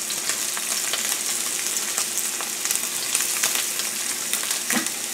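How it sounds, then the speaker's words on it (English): A ribeye steak sears in a hot pan before oven roasting, giving a steady, loud, close sizzle with crackling spits and pops throughout and no voices. "Alright, so I think we've seared that side enough."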